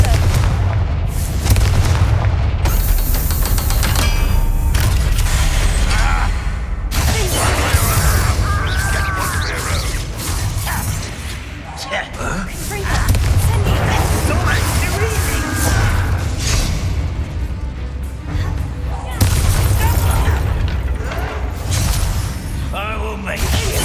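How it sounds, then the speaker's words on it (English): Loud fiery blasts of the Confringo blasting curse in Hogwarts Legacy, booming explosions repeating through the stretch over a dense low rumble, with a voice speaking over the gameplay. "Confringo."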